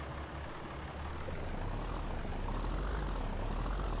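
Tractor engine running in the video game Farming Simulator 19, a steady low drone with a rising, whining tone that swells gradually, continuous and fairly loud with no talking.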